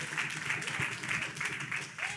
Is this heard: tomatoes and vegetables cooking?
no